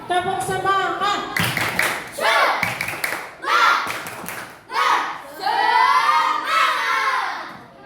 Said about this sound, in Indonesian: Ketika kita akan main tepuk semangat.